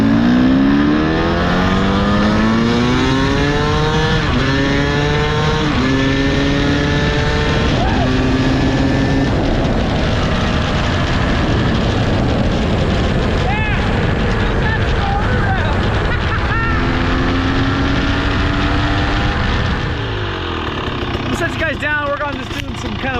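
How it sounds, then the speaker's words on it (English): A 2023 KTM 300XC two-stroke dirt bike fitted with a high-compression head revs hard in a parking lot, its engine pitch sweeping up and down repeatedly to over-rev, loud and close throughout. "One thing we're definitely going to be testing here is the over rev."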